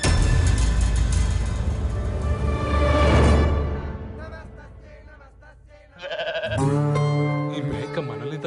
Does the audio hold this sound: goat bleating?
yes